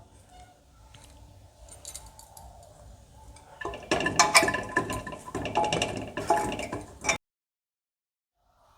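Small cut and washed pieces of raw jackfruit drop into a metal pressure cooker, with soft handling at first, then a busier few seconds of clinks and knocks before it stops abruptly into silence.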